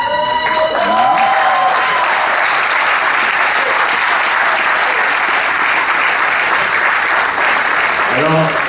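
A crowd at an inauguration claps loudly and steadily in dense, continuous applause, with brief voices calling out at the start and end.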